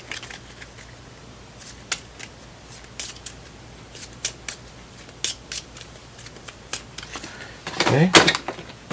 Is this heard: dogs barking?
no